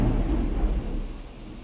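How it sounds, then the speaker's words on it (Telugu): Thunder gives a low, rolling rumble that is moderately loud at first and then fades over a couple of seconds, heard on its own. "అది భయం వేస్తుందండి అక్కడ ఆ ఉరుములకి మెరుపులకి"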